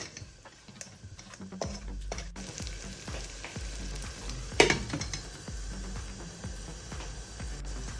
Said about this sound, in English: Once the butter was almost melted, I added in some onions. So I'm going to cook these on a low heat